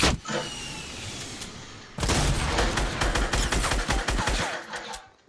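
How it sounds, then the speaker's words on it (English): Minigun fire in a duo battle-royale video game, a sustained roaring burst of rapid shots, a short break, then a second long burst, loud and close. "he's using a minigun."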